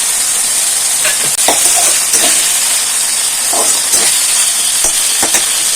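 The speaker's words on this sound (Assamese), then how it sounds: "এতিয়া মই যিখিনি বিলাহী কাটি ৰাখিছিলোঁ সেইখিনি মই দি দিছোঁ" Chopped tomatoes hit hot oil with fried spices for an Assamese fish curry, giving a loud, steady close sizzle and hiss, broken by scattered scraping stir sounds throughout.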